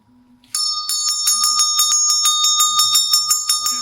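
A bright bell rings rapidly and repeatedly, a steady metallic trill of close strikes lasting a few seconds after a brief quiet start.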